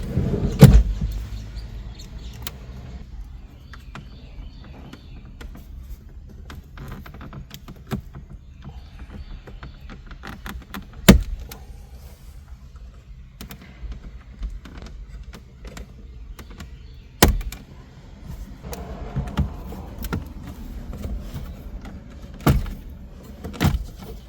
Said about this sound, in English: Let's start things off by removing the radio trim.